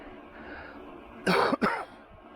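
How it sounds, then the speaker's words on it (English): Two quick, harsh coughs from a man recovering from the flu, up close, one right after the other, over faint background hum. "I'm coughing because last week I got the flu."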